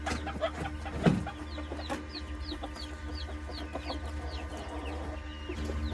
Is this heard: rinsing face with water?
no